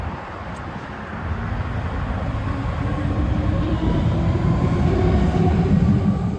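A first-generation BART train from 1972 runs on its final retirement ride, a continuous loud rail rumble and rolling roar that builds slightly and holds steady throughout.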